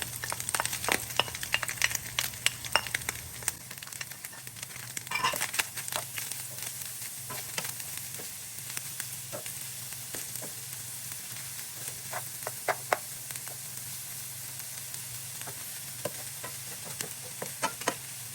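Onions sizzle in a pan with bacon and cabbage, a continuous hiss dotted with scattered pops and crackles, with a clatter of stirring early on and no speech.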